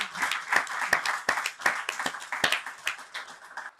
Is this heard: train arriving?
no